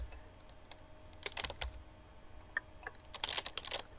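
Fast, faint keyboard typing in irregular bursts of clicks from the chat game Emily Is Away, close and alone with no talk.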